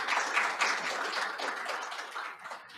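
Sustained applause from an audience at a consulting MOU signing ceremony, honoring a senior consultant after his lecture; steady, moderately loud clapping from many hands with no voices, fading slightly toward the end.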